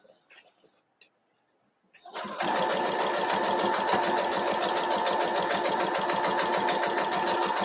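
A sewing machine piecing quilt fabric starts after a quiet pause with a few small handling clicks, then stitches steadily and loudly in a rapid, even mechanical whirr close by.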